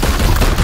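Gunfire in the turn-based video game Warhammer 40k: Chaos Gate - Daemonhunters, a loud, dense, close burst of shots lasting under a second, with no talk over it.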